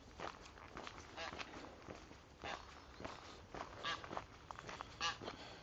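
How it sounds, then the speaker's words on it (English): A goose honks a few times nearby on a coastal walking trail, mixed with crunching footsteps along the path. "Come on, goose. I'm coming past. Stay back."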